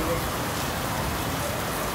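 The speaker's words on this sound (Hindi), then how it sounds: "बहुत तेज बारिश हो रही है" Heavy rain falls steadily as a dense, even hiss, constant and fairly loud for the whole stretch with no distinct drops standing out.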